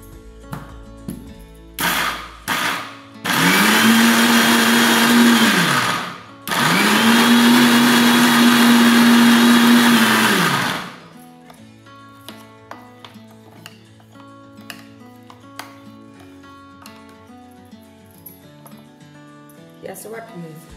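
A kitchen blender coarse-grinds lentils soaked for appe batter in two long, loud whirring bursts, each rising and then cutting off, after a few short pulses, with quiet kitchen clatter following.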